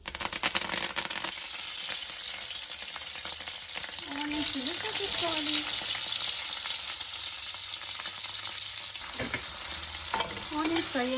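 Onions and curry leaves fry in oil for a tomato cashew gravy curry. A bright, steady sizzle carries on throughout, with a few faint utensil scrapes, and a voice is heard briefly.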